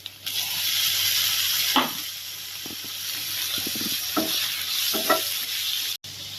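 Onions sizzle and soften in a hot pan for a goat liver pepper fry, a steady soft crackle with occasional scraping stirs and clinks from a utensil, fairly close and without talking.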